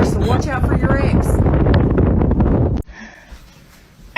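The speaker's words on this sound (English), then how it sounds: "Ooh, it's mad windy today." Strong gusty wind pummels the microphone with a loud, rough rumble for about three seconds, then cuts out abruptly to a quieter background, with faint voices mixed in.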